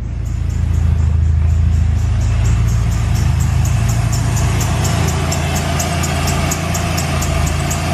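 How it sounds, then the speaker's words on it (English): A K24-swapped EK Honda hatchback engine idles loudly and steadily up close, with a faint high-pitched belt squeal pulsing rhythmically over the rumble. "Got a little belt squeal, just like my car when it's cold."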